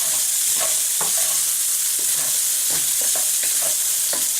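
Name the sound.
stir-frying vegetable fried rice with sesame oil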